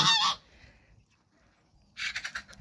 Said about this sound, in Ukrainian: Ці два гусачка так і гуляють віддільно від остальних гусей